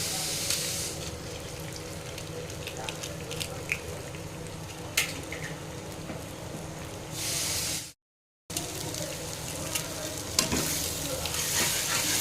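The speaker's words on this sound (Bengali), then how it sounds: "তো ডিমটাকে এবার আমি ভুজিয়া করে নেব।" Egg scrambles and fries in a pan with fried brinjal, giving a steady, close sizzle with scattered scrapes of stirring and a brief dropout midway, without clear talking.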